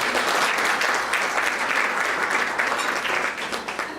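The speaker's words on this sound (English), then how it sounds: "So I think the first round of applause for tonight should go to all of you for what you've done by coming out tonight." An audience gives a round of applause at an awards evening, with dense, continuous clapping from a large crowd that fades slightly toward the end.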